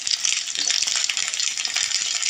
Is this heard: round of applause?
no